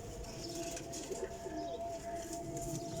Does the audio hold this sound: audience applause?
no